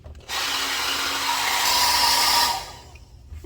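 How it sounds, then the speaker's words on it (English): A hair dryer runs on its heat setting drying hair, a close, steady airy whoosh lasting a couple of seconds before cutting off. "I'll dry my hair on the heat setting"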